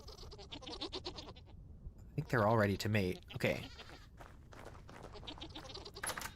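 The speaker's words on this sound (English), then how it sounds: "Let's feed the goats." Goats bleating in the modded survival game Vintage Story, a couple of loud wavering bleats in the middle while someone talks quietly before and after.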